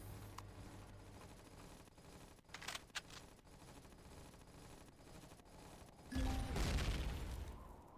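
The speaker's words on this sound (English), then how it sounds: "random explosions." Explosions boom in a base-building space game while the player's colony is under attack, with several distant blasts and crackling bursts followed by one louder, closer rumbling explosion; no speech.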